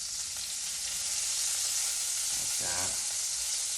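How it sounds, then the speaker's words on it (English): Green onions sizzle in a generous pour of hot oil for Korean seafood pancakes. A loud, continuous close-up hiss holds throughout, with a short stirring scrape near the end and a brief spoken remark. "So throw down some good amount of oil, and this is where we add our green onions,"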